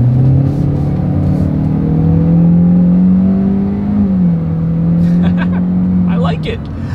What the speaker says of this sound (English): Let's go ahead and do a quick little acceleration, see how quickly we can get this new 2020 Elantra here up to speed.